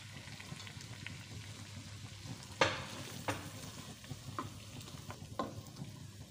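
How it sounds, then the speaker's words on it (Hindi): Moongre being stirred into a frying masala with fenugreek for an aloo moongre matar dish, a soft sizzle under a few sharp spatula scrapes, fairly quiet. "इसे अच्छी तरह से मसाले में मिक्स कर लेते हैं।"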